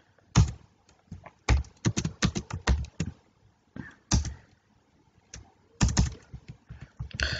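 Typing code on a computer keyboard: close, crisp key clacks in irregular quick clusters with short pauses between, loud against a quiet room, no voices.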